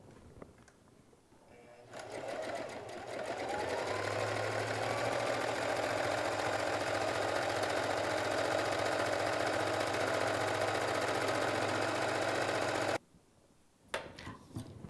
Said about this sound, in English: zigzag around this mark on our sewing machine using a buttonhole stitch